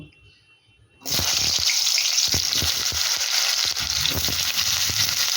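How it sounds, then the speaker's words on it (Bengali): Pre-cut elephant foot yam pieces drop into hot mustard oil in a kadai: after a near-silent second, a sudden loud burst of frying erupts and continues as a thick, bubbling sizzle. "তেল ভালো মতো গরম হয়ে গেছে এবার আগে থেকে কেটে রাখা ওলগুলোকে দিয়ে দেব"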